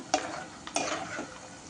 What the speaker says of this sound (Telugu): పల్లీలు ఇట్లా మంచి కలర్ వచ్చేంత వరకు వేయించుకోవాలి